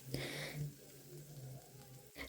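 Onions frying in a pan over a low flame, giving a soft, steady sizzle that runs the whole time, with a faint clink near the end.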